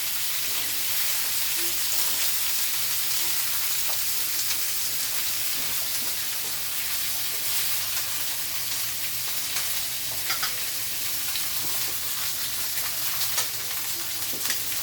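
Sauerkraut and pork frying in a pan while being stirred, a dense continuous sizzle close by with occasional light scrapes and taps of a utensil, no voices.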